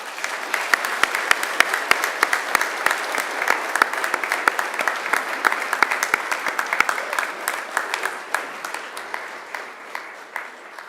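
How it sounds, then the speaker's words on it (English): Graduates at a Macquarie University ceremony applaud their seated family and friends: a large hall of clapping with distinct sharp claps standing out, loud at first and gradually thinning toward the end. "Now I invite you to give them an almighty round of applause."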